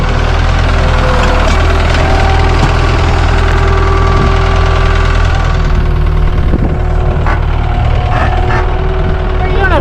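A farm tractor idles loudly and close by on a cattle-feeding job, a steady low rumbling drone with a faint knock, while a person talks briefly over it.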